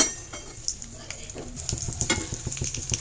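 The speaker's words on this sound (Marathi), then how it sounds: "तूप गरम झालं की त्याच्यामध्ये सुकामेवा घालून घेऊ." Cashews and raisins sizzle in hot ghee in a pan while being stirred, with steady close frying crackle and occasional light scrapes and clinks of a spoon.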